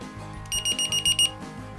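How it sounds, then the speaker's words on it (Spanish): A battery checker for a three-cell pack sounds its alarm in a quick run of about six sharp electronic beeps, fairly close and clear, over a steady low hum with no voices. "hay de este tipo que me indican con una alarma cómo están las baterías"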